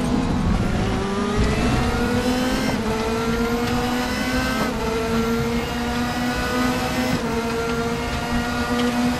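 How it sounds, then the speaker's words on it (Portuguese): A 2015 Audi RS DTM race car in RaceRoom at the Red Bull Spielberg circuit, heard as a loud, continuous engine drone that rises through the gears in repeated revving climbs with brief shift breaks, close and alone. "Carro Audi RS DTM 2015 no circuito"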